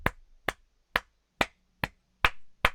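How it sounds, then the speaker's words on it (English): Eight sharp hand claps at a slow, slightly uneven pace, each one a crisp isolated smack with quiet gaps between, fairly close and alone with no talk. "I was clapping."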